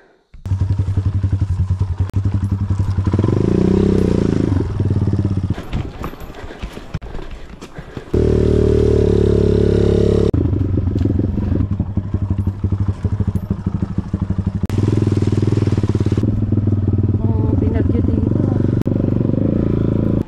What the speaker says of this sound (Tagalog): Ay, adventure bike dito.